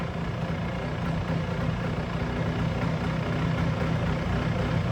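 A 1973 Kawasaki F7 175 two-stroke motorcycle engine idles with a steady low rumble throughout, a rough, uneven putter with no voices.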